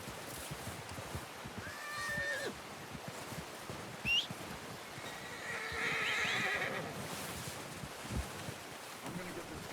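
A horse in Red Dead Redemption 2 neighs and snorts a few times at moderate distance over outdoor wind and ambience, with some hoof clops and faint game voices in the background.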